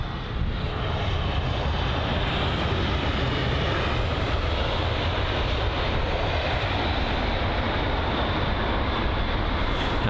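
A British Airways A320 at London Heathrow, its engines giving a steady, loud broadband roar that holds unbroken for about ten seconds, with no talking.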